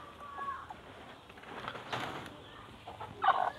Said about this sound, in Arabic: طبعا هذه هي الدجاجة